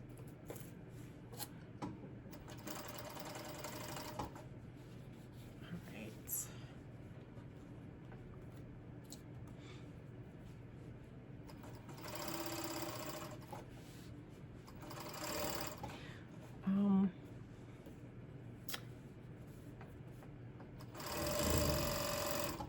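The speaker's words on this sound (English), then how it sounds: "when you are sewing lingerie and you're sewing on elastic, you normally do like a little pull. on the elastic" A sewing machine stitches elastic onto lingerie in several separate runs of fast, even mechanical whirring, with quiet pauses and small clicks between runs, close and at moderate volume.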